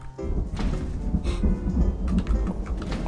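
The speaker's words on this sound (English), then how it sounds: "I love the thunder sound effect" Thunder rolls from the Project Zomboid video game as a deep, steady rumble with rain hiss, a sharp crack in the first second, loud and unbroken throughout.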